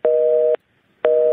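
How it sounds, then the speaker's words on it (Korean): A telephone busy tone sounds after a call drops during a Korean radio phone interview: two loud, steady half-second beeps separated by a half-second of silence. "전화가 끊겼습니다."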